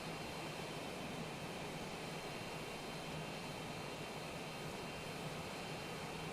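Steady, faint broadband drone of an airliner cruising at 40,000 feet in MSFS 2024, a smooth uniform hiss-like engine and air noise with no changes or other sounds.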